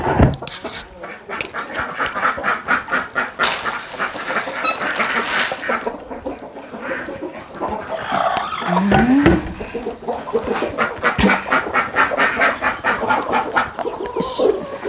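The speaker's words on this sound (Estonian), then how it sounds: "Laudas on üks kana, kellel on 3 pisikest tibu." A hen with small chicks clucks and peeps while being fed grain on a rural Estonian homestead, with busy overlapping bird calls and scratching close by, alone without talk.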